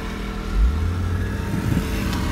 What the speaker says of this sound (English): Nice, smooth power from the engine.